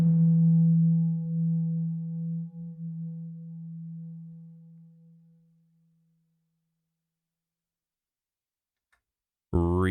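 One sine-wave pluck from a Novation Peak synthesizer, run through its first reverb algorithm, swells out and decays gradually into a smooth tail over about six seconds, then near silence before a voice briefly starts speaking at the end.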